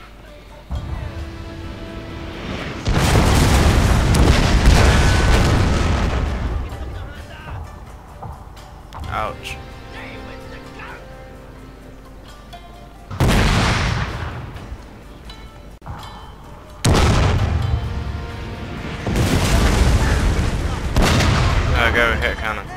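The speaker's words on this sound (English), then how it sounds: "There goes my artillery firing." Artillery cannons fire during a Shogun 2 Total War online battle, heavy booming blasts and rumbling volleys arriving in several loud bursts amid continuous battle noise, with a voice talking over it.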